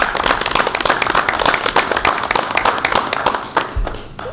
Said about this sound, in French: Oui, on peut applaudir.